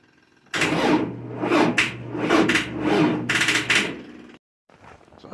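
An old diesel tractor engine cranks over in freezing winter-storm weather. The starter churns loudly in a string of rhythmic, labouring pulses for several seconds without catching, then stops abruptly before a short, quieter rustle.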